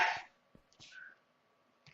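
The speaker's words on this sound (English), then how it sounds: "that was a loud sneeze in the next room" A single sharp, bright burst like a sneeze from another room, followed by a few faint knocks and a brief whistling tone.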